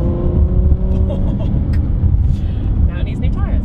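A Ferrari F12 drives along roads in West Sussex, its engine a steady low in-cabin rumble with light tyre and road noise, while people talk over it.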